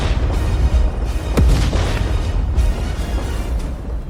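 An explosion sound effect in a narrated fantasy battle story, a heavy low boom rumbling across the whole stretch with a sharp burst near the middle, loud and dense, no voice over it.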